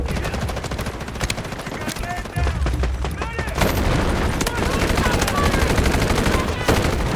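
Rapid automatic gunfire in the shooter game Delta Force, sustained bursts of loud, close shots with booming reports, continuing almost nonstop throughout.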